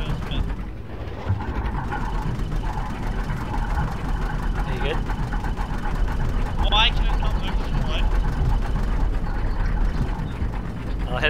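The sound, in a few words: tractor engine running in video game DayZ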